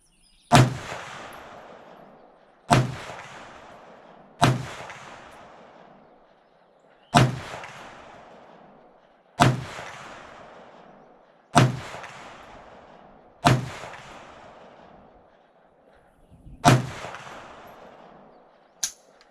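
An M&P15 rifle fires eight separate loud shots at an outdoor public range, each sharp crack trailing off into a decaying echo, spaced roughly two to three seconds apart.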